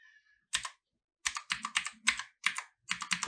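Short bursts of typing on a computer keyboard while entering a name in a design program, close and clear, with quick clustered keystrokes separated by brief pauses and no talking.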